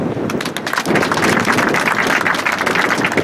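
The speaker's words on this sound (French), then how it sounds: "notre brave colonel Mamadou Bamba Keïta, que je vous demande d'applaudir" An audience applauds at a naval base ceremony in Saint-Louis, Senegal, a dense, continuous burst of many hands clapping that holds loud throughout.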